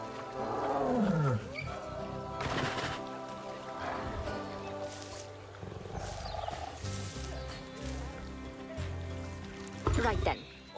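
In the console edition of Planet Zoo, a tiger gives deep rumbling roars and growls over an outdoor ambience of flowing water, while a person talks throughout.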